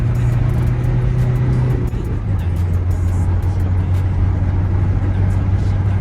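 An Opel Vivaro long-wheelbase 2.0 diesel van's engine drones loud and close in third gear, holding a steady, strained pitch as it pulls hard under load, with no injector clatter and no voices.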